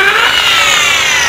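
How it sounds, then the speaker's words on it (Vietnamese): A power drill bores slowly into a part of a two-sided bird trap cage, giving a continuous, close, loud high-pitched whine with no talk. "Các bạn khoan nên khoan từ từ thôi nhá, không là nó sẽ bị vỡ."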